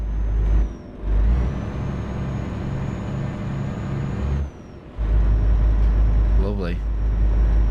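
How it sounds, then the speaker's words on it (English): Loud, droning truck engine in Euro Truck Simulator 2 rumbles steadily, dropping out briefly before roaring back, with a short spoken word over it. "this truck is so noisy"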